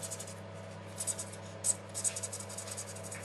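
A pen writing on paper while chemistry exam answers are worked through, giving faint scratchy strokes in short bursts against a steady low hum, with no talking.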